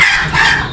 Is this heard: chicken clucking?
yes